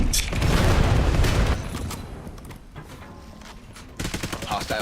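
Cluster grenade explosions in a first-person shooter video game, a dense burst of loud booms and crackling blasts, then fading rumble before another sharp volley of gunfire-like pops.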